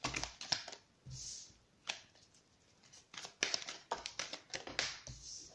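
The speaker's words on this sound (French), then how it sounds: "on va faire une coupe avec l'oracle d'Annabella" A deck of oracle cards being cut and shuffled, quick light papery riffles and taps in short bursts, close and fairly soft, with brief pauses between.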